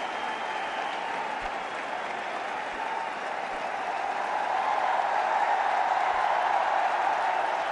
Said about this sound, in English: And well applauded by the teammates.